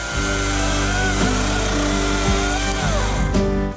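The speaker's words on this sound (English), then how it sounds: "Run the saw, pull back on the stone for three to five seconds, it'll sharpen your chain on the fly." An Oregon CS300 battery chainsaw whirs loudly and steadily as its chain self-sharpens against the built-in stone, the pitch dipping and wavering under load, close and with no talk.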